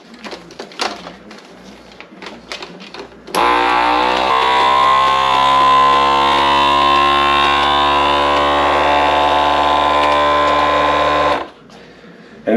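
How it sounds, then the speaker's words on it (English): A vacuum sealer pulls the air out of a storage bag, a loud steady mechanical whine that holds for about eight seconds after some quiet handling noises, then cuts off. "that sucks all the air out, so no matter what, they cannot dry out"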